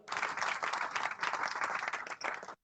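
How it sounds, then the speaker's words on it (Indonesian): An audience at an evening church gathering in Bengkulu breaks into lively applause for a guest speaker, dense and continuous clapping from many hands that holds steady for a couple of seconds before cutting off. "kita beri aplaus malam hari ini buat narasumber kita"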